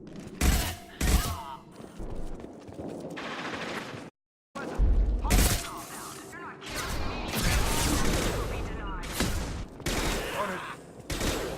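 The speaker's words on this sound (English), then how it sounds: "Firing an impact shot!" Impact shot gunfire in Mass Effect 2 comes as heavy blasts and clustered volleys amid combat noise, loud and close, with a brief silent gap and voices talking over parts of the fight.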